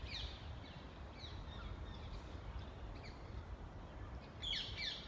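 Green parrots squawk from roosting trees in Richmond Park, London, at sunset, their harsh calls coming in scattered bursts, loudest near the end, over a steady rumble of low background noise.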